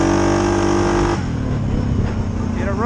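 Suzuki KingQuad 750 ATV engine held at high RPM, a loud steady droning whine that drops in pitch and roughens partway through, close up, with no talking.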